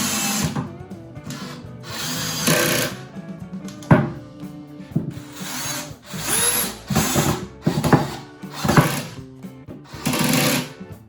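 A power drill drives screws into a wooden cabinet in repeated loud, whining bursts of a few seconds each, with brief pauses between screws.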